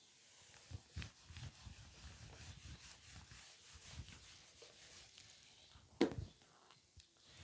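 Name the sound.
rubbing out writing on a board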